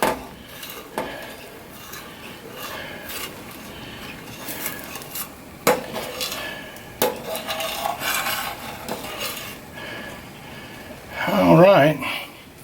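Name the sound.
stirring gravy in a pan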